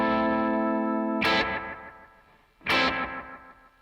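Electric guitar run through a Strymon delay pedal: a sustained chord sings with warbling, fluttery quick repeats, then two sharp strummed attacks each trail off into soft echoing decay.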